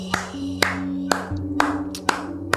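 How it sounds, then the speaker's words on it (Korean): Several sharp single hand claps ring out at uneven intervals, each one crisp and close, with a quiet steady tone running underneath and no speech. "박수가 절로 나와요."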